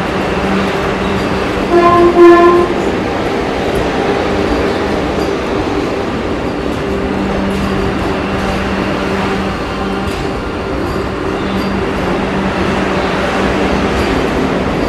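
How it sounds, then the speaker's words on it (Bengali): Vande Bharat Express running between Howrah and NJP pulls into NJP station platform 1 with a steady rumble of rolling wagons and a short horn blast early on, loud and close throughout. "ট্রেন ঢুকে গেছে এনজিপি স্টেশনের 1 নম্বর প্ল্যাটফর্মে"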